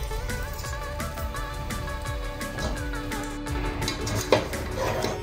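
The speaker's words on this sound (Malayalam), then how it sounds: "ഗ്രിൽ ചെയ്ത ചിക്കനും പൊട്ടറ്റോയും ഓരോന്നോരോന്നായിട്ട് ഇട്ട് കൊടുക്കാം." Grilled chicken and potato pieces dropped and stirred in a pan, with steady clattering of a utensil against the metal, scraping and clinking, and a faint sizzle underneath, close and busy without talking.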